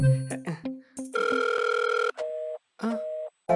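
A telephone call rings out with a long tonal ring and short beeps, then cuts off, leaving broken tone bursts and gaps, amid brief snippets of other tonal sounds at the start.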